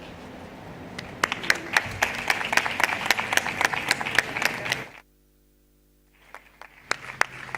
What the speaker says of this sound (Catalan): així us podem aplaudir com mereixeu i agrair la tasca feta avui